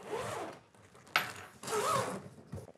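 The zipper on Level8 Vintage Collection luggage is pulled open in two long, close, rasping runs with a brief click between them, and no voices are heard.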